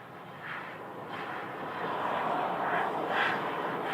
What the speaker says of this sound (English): 2965 is an Airbus A321neo that you see in the background there, headed across the country to Washington, D.C., to Reagan National.